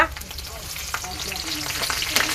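Dense crackling sizzle of garlic and curry leaves frying in hot tempering oil, steady and close, with occasional stirring clicks and no talking.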